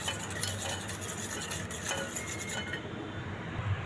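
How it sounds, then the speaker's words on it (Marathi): A spoon or whisk stirs cake batter of oil, milk and powdered sugar in a metal bowl, producing quiet, continuous scraping with light clinks against the sides and no talking. "आणि आता छान जरा ढवळून घेते आधी"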